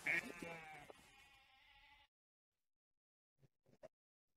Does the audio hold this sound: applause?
no